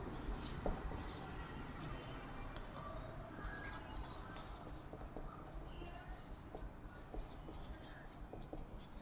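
A pen or pencil scratches steadily across paper while a math problem is written out by hand, faint and continuous under a quiet voice speaking.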